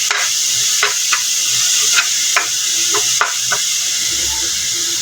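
Brown pork is sautéed in a pan: a constant sizzling hiss runs throughout, and sharp scrapes and clacks from stirring come at irregular intervals over it.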